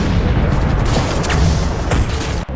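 Artillery fire in a war film scene, one continuous loud roaring boom that fills the whole span, heavy and close, then cut off abruptly near the end.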